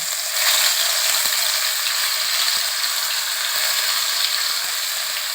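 Onion frying in hot oil for a spicy fish dish, a loud, steady sizzle that hisses continuously from start to finish, with faint scraping clicks and no talk.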